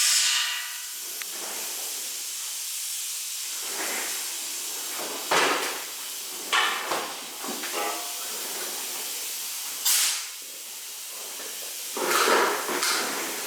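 Compressed air blown gently through oil screens from a 2021 KTM 690 Enduro R during an oil change, heard as several short hissing bursts that rise and cut off, separated by quieter pauses, close to the mic.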